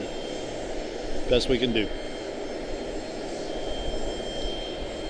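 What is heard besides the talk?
airliners arriving at Charlotte-Douglas International Airport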